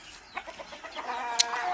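A hen gives a few soft, quick clucks close by, with a brief sharp click partway through, fairly quiet overall.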